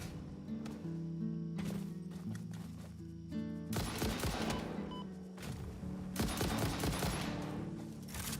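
Enemies in the game Satisfactory open fire, with dense rattling bursts of rapid gunshots starting partway through and repeating loudly after a quieter stretch.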